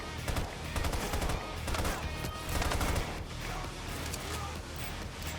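Rapid hip-fire gunfire from PAYDAY 3 rattles in dense, continuous bursts, loud and close, with a person talking over the shooting.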